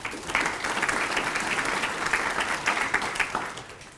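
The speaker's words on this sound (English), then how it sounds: "She deserves a round of applause even if she isn't," A civic audience at a State of the City address applauds with steady, sustained clapping that fills the room and tapers off slightly toward the end.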